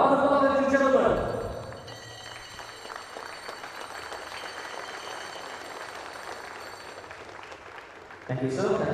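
Crowd clapping at the Ben's versus Wesley basketball encounter, a sustained even patter of many hands following a brief voice at the start, with a voice returning over the end.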